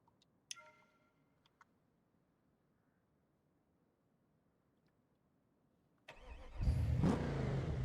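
A Bastion car in the BeamNG video game starts up and revs hard after a long near-silent stretch with a few faint clicks, the engine roaring in loud and close for the last two seconds.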